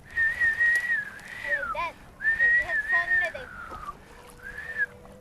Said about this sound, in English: You make the whistling sound that calls the wind?